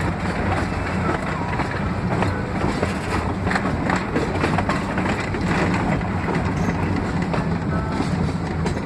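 A train rumbles along continuously on the Silver Plume to Georgetown mountain railway in Colorado, entering a curve, with a rhythmic clatter and wind buffeting the microphone, loud and close, with no voices.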